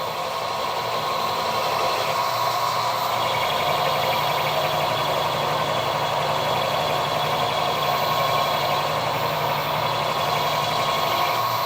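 A milling machine cuts a hex on a steam waggon plug, giving a steady continuous grinding whir at close range with no voices.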